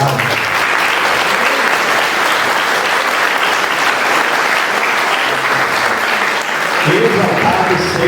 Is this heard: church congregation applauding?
yes